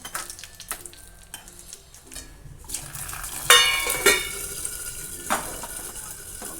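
Tempering for buttermilk curry sizzles in hot oil after some light stirring clinks, the hiss bursting up loudly midway and then settling into a steady crackle, close by.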